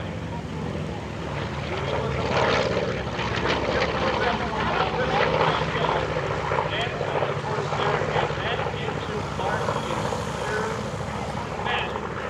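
A Corsair fighter's propeller engine drones loudly and steadily overhead at EAA AirVenture, a broad rumbling roar with a faint voice underneath.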